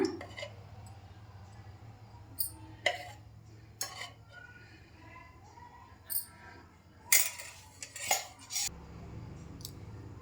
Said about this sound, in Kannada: ಒಂದು ಬಲೆ ಮೇಲೆ ಪಾತ್ರೆಯನ್ನು ಇಟ್ಕೊಂಡು ಅದಕ್ಕೆ ಎರಡರಿಂದ ಮೂರು ಸ್ಪೂನ್ ಆಗುವಷ್ಟು ಎಣ್ಣೆನ ಹಾಕ್ಕೊಳ್ಳೋಣ